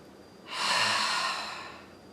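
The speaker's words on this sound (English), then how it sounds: "as you breathe" A single slow Ujjayi breath during a yoga session, a smooth airy hiss that swells and then fades over about a second and a half, close and alone.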